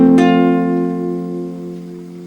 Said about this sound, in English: So I need to position my fingers like this and strum the chord so it sounds like this